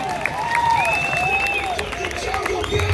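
An audience applauds a young yoga talent on stage with a fairly soft, continuous patter of clapping, while a voice speaks over the applause.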